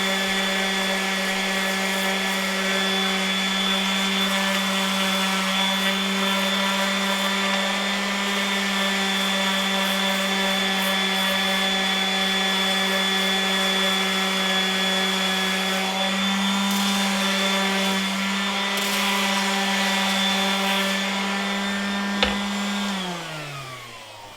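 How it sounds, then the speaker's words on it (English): A power sander works the ends of a wooden snowshoe frame, giving a steady, loud motor whine with a strong constant hum that runs unbroken for over twenty seconds before winding down at the end. "Sanding on the ends, we just want to remove the pencil marks and any stains."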